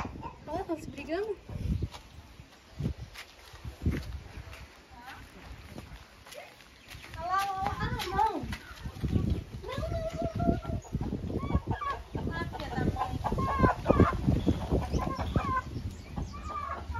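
Backyard chickens, hens with a chick among them, cluck and squawk in bursts that may be a squabble. The calls are close and busy over the whole stretch, and a person talks at times alongside them.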